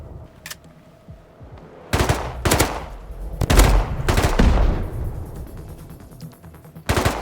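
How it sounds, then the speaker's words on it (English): Bursts of rapid machine-gun fire crackle from enemy ships in a naval base building game, several separate volleys of varying length with quiet gaps between them. "Oh, they're shooting back."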